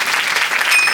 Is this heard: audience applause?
yes